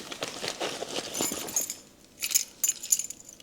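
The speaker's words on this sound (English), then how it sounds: "in this flap pocket here, all there is are spare keys" Spare house keys and a spare car key clink and jangle inside the flap pocket of a bedroom emergency kit, in a few light metallic rattles after some rustling.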